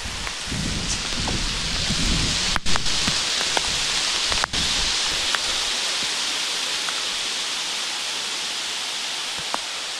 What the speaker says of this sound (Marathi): हे बघा पाऊस बघा पाऊस